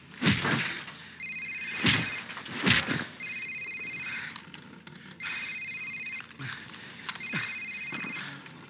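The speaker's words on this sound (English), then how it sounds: "Sir, it's his cell phone." A cell phone rings in the Call of Duty 4: Modern Warfare "Safehouse" mission, four repeated electronic ring bursts sounding at steady intervals over a low room background, with sharp thuds and impacts at the start.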